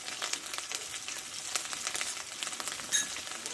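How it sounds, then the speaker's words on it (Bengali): A spice paste of cumin, coriander, dried chilli and turmeric fries in hot oil, giving a steady close sizzle with soft crackles and occasional stirring scrapes, no voices. "এই মশলাটা একসঙ্গে ভালোভাবে কষে নেবো"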